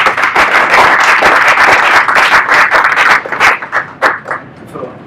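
Loud, close audience applause greeting a speaker at a talk on whether Jesus rose from the dead, full clapping that thins into a few scattered claps and dies away near the end.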